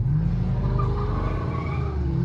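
A Dodge Hellcat slides through a turn, its tires squealing in a drawn-out, wavering screech over a loud, steady engine roar, heard close up.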